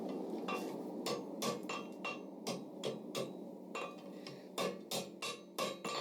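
A blacksmith hammers a steel taper over the anvil horn while forging a scroll, sharp ringing blows landing close and loud in an irregular rhythm of a dozen or so strikes.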